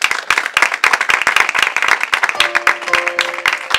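A church congregation claps and applauds in praise of the Lord, a dense, close burst of many hands clapping with a few sustained voices or tones rising near the end.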